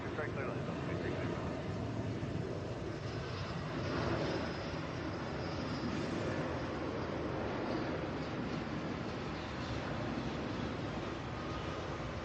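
A Delta airliner lands on runway 26 right at Atlanta's airport, its engine roar steady and broadband throughout under wind-like rush, with voices talking faintly now and then.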